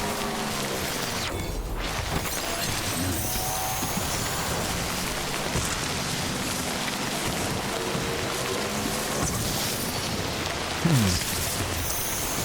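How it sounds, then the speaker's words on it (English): Heavy rain pours steadily in the video game Death Stranding, a dense continuous hiss and patter that stays loud throughout, with a few faint mechanical creaks and a brief low thud near the end. "This rain is relentless, man."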